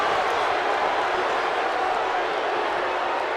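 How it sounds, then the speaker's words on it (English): A virtual arena crowd in the WWE 2K18 wrestling game, set in Las Vegas, gives off a steady, dense roar of cheering that fills the whole moment at an even level. "Seems like the crowd in Las Vegas are in favor of the Hardys."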